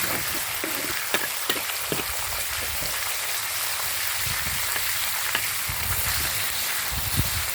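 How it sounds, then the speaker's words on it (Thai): Steady crackling sizzle of thinly sliced pork stir-frying in hot lard, with occasional sharper pops and faint scraping, continuous and close. "ใช้น้ำมันหมูผัดนะคะ"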